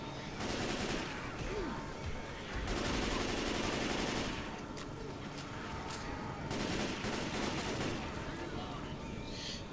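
Gunfire in the video game Left 4 Dead 2: bursts of rapid automatic shooting in several long runs, separated by quieter stretches, fairly loud and close.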